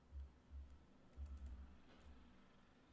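Soft computer keyboard typing, a few quick bursts of faint keystrokes separated by short pauses, close by and quiet.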